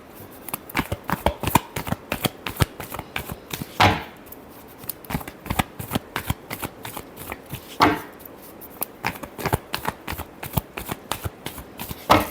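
Tarot cards being shuffled by hand in a steady run of crisp riffling slaps and flutters, with two louder bridging cascades standing out, close and clear with no talking.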